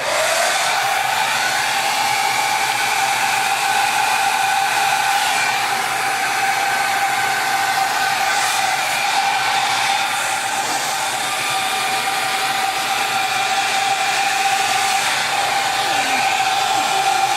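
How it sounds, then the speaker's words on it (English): Hair dryer blowing over an acrylic fluid art pour, a loud continuous airy roar with a steady motor whine lasting throughout, alone without talk. "and now we'll use the hairdryer."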